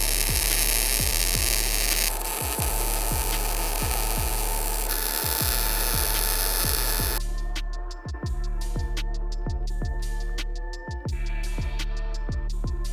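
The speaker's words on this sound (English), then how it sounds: "So now we're gonna go ahead and weld all this together" Continuous buzzing crackle of welding on a steel offroad rear bumper and hitch for a 4th gen Toyota 4Runner, steady and close, with a shift partway through and brief pauses, with no talking.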